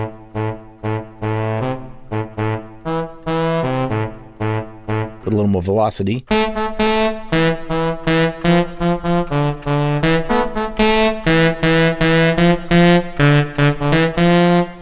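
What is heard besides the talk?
tenor sax patch from OPX4 plugin on Akai MPC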